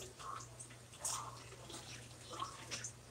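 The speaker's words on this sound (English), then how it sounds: "I'm going to go ahead on and just wash all the bundles" Hair bundles are washed under cool running water, producing a soft steady spray with scattered splashes and drips close by, low in volume throughout.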